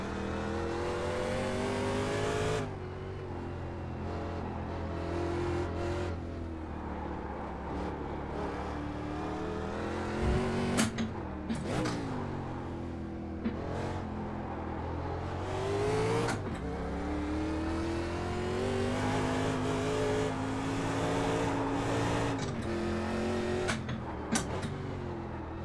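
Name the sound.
1987 NASCAR Winston Cup race car engine revving, iRacing video game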